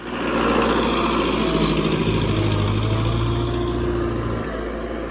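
A Russian tractor with a plough attached runs close by, its engine a steady loud drone with a low rumbling hum that holds evenly before easing slightly near the end, no voices.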